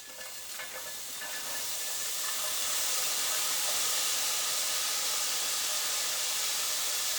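Onions and garlic hit hot fat in a pan and break into a steady, bright sizzle that builds within the first couple of seconds and then holds loud and even, with no voices.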